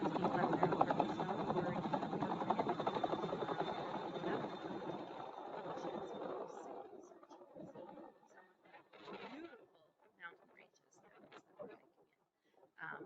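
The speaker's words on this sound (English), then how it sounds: "So then we're on the helicopter, and then the helicopter takes off." A helicopter lifts off over snow in the Canadian Rockies with a loud, steady rotor and engine roar that fades after about six seconds, leaving quieter, broken sounds and talk.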